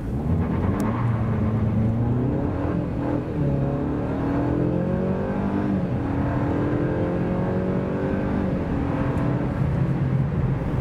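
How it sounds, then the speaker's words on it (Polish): A 2021 facelifted Opel Insignia liftback with a 2.0 Turbo 200 hp petrol engine pulls hard from a standstill to 100 km/h, its engine note climbing steadily through several gears, loud and continuous with no talk. "bardzo dobrze rozpędzała samochód i tak na przykład wygląda dzięki niej przyspieszenie od"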